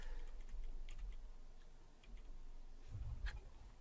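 Computer keyboard keys tapped a few times to nudge an element into fine placement, faint scattered clicks over a low steady room hum with no talking.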